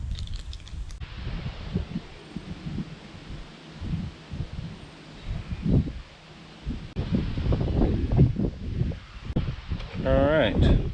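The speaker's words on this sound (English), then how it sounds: "It has been crazy windy all morning." Gusty wind buffets the microphone in uneven rumbling bursts, loud and close, with a voice speaking intermittently underneath.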